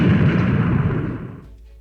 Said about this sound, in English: massive explosion as that Droids mercenary is blown to pieces